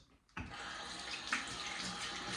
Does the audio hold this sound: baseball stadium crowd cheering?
no